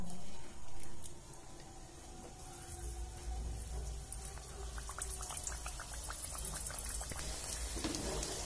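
Onion kachori fry in hot oil, a dense crackling sizzle with fine popping bubbles that grows busier and steadier over several seconds, close up and without speech.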